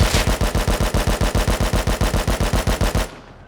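An AK rifle in the video game Rust fires a rapid full-auto burst of about two dozen evenly spaced loud shots over three seconds, then stops and a short tail fades.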